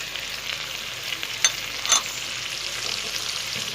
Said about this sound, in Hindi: देखिए कितने अच्छे जो हमारे फ्राई हो रहे हैं।